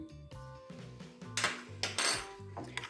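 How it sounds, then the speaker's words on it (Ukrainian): Sour cream, egg and salt being mixed in a bowl, with a run of quick clinks and scrapes of a utensil against the dish, close and fairly loud. A sustained musical tone plays underneath. "Це все нам треба добре перемішати."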